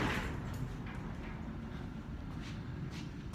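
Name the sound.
garage door being closed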